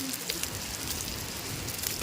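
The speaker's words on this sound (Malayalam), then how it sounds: "ഉഗ്രം മഴ വരുന്നുണ്ട്" Dense, steady hiss and patter of heavy rain, unbroken for the whole stretch, with no voices.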